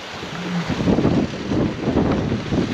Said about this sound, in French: Le vent, on a toujours 22 nœuds de vent